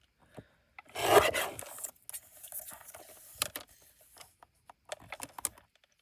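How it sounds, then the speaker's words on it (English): Scissors trimming an herbal tea box for a small flipbook craft, heard as close, dry rasping and rubbing cuts in a burst near the start, then scattered lighter snips and paper handling with quiet gaps between. "Let me trim it a little bit instead of piecing those together"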